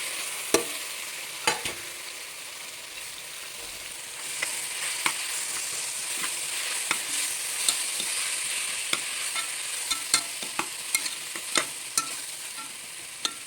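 Masala being sautéed in a pan while preparing chicken biryani, with a low constant sizzle broken by repeated sharp clicks and scrapes of a spoon stirring against the pan, close and unaccompanied by talk.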